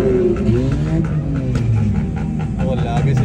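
Modified cars with loud exhausts rumble and rev at an auto show in Islamabad, a deep, close engine drone with rising and falling pitch, while people talk over it.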